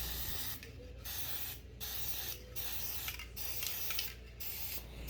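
Repeated bursts of hissing aerosol spray from a spray paint can, several short blasts separated by brief pauses, close and fairly loud.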